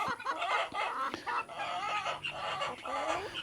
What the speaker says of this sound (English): you can see the chickens are in here